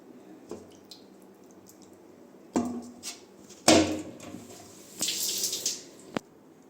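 Raw chicken leg pieces being rinsed in water for frying, with a quiet trickle punctuated by several louder splashes and sloshes of meat being handled in a bowl, ending in a sharp clack.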